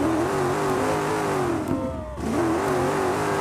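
A rally car engine in the Dakar 18 video game revs steadily and loudly, its pitch shifting up and down, then dropping away briefly as it lets off before the revving climbs back in.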